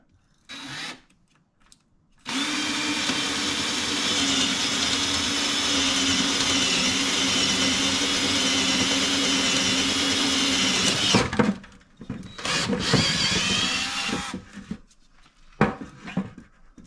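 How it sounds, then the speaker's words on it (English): A power drill whines steadily for several seconds as it bores through material, then stops; a few short bursts and handling noises follow. "Now, we drill these holes."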